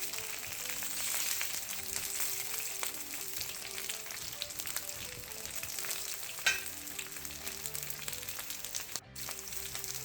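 Ingredients for a Dungeness crab coconut red curry fry in a pan with a loud, constant sizzle and occasional stirring scrapes, close by, with no voices.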